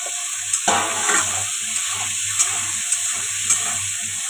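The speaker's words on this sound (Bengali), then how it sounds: "দেখো কচুটা ভাজা ভাজা হয়ে গেছে" Chunks of taro frying in oil in a pan at home, with a sharp scrape and clatter of stirring early on and a steady soft sizzle continuing underneath.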